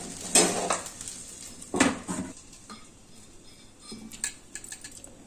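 A metal lid clanks down onto a cooking pot of okra simmering for a buttermilk curry, giving two sharp close clinks followed by fainter light rattles of kitchenware.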